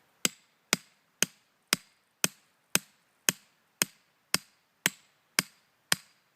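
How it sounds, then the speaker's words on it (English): A hammer drives a stake into rocky ground with thirteen sharp, evenly spaced metallic strikes about half a second apart, loud and close with no talking. "We should really have a bigger hammer out here."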